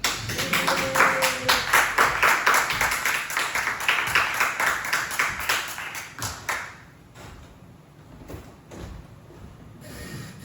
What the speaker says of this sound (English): So I want a huge round of applause, please, for Amaziyah the Great.